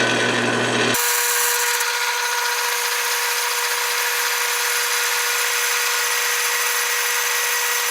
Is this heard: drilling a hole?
yes